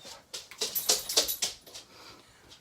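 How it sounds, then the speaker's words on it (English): Two dogs' claws clacking on a hard indoor floor: a quick, irregular run of sharp clicks up close, fading out toward the end. "You two sound like you're in heels with your claws clacking."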